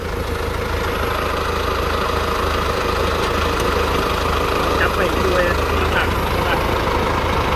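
The diesel engine of a Toyota 6FD30 3-ton forklift idles steadily with a low, constant rumble, loud and close, under a voice.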